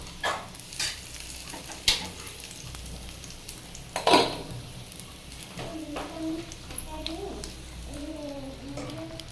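Ginger and cumin tempering sizzles and is poured into simmering khesari lentils: frying hiss with a few sharp clinks of utensils, then a softer bubbling under a voice talking.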